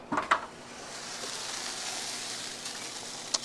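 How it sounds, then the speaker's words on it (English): Chicken sizzles on a Big Joe Series 1 kamado grill, a steady soft hiss filling the background with a few louder clicks and knocks near the start and one brief tick near the end; no one speaks. "I do notice a lot more smoke and sizzle coming from our Big Joe Series 1"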